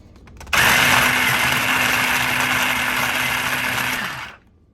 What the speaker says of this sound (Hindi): मैं इसमें प्याज डालकर चॉप करूंगी।